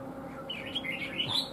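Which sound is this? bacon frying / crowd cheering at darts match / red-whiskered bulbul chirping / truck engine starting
red-whiskered bulbul chirping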